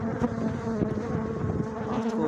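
Dense, steady buzzing of many bees swarming close by and attacking during a honey harvest, a continuous droning hum with no voices.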